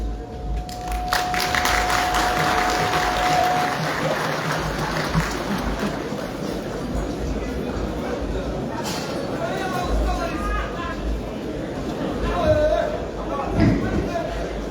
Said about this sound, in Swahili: Pigia gavana wetu makofi mazuri tena.